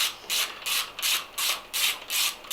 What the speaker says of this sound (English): we need to remove the small countersunk Allen screw and the end finisher off the end of the bar